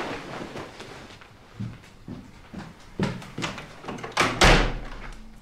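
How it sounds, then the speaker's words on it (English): A door is pushed shut and locked, with several thuds and a final loud slam and rattle against a dim background rumble; no speech. "Lock the fucking door."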